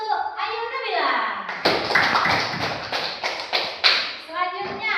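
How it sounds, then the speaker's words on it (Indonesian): Children in a classroom break into a burst of clapping and tapping applause lasting a few seconds, with a teacher's and a voices before and after it. "Ayo kita kasih aplaus untuk Ayu Nabila"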